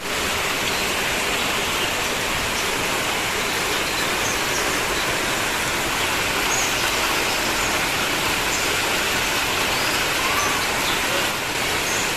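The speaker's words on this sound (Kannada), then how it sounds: "ನಮ್ ಕಡೆ ಅಂತೂ ಮಳೆ ಸ್ಟಾರ್ಟ್ ಆಗ್ಬಿಟ್ಟಿದೆ ತುಂಬಾ ಜೋರಾಗಿ ಮಳೆ ಬರ್ತಾ ಇತ್ತು" Heavy monsoon rain pours steadily, a dense, even hiss of water that stays loud and unbroken from start to finish with no voices over it.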